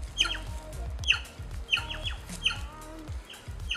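A bird near trees in Brazilian woods gives repeated sharp, high chirping calls in a rhythmic series, fairly close and clear, with low rumbling background noise and no talking.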